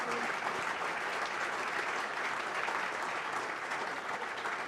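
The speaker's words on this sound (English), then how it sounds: "Big round of applause for Jim Messenger." Steady, sustained audience applause fills a sports awards ceremony hall, a dense even clatter of clapping hands that holds at a constant level from start to finish with no voices standing out.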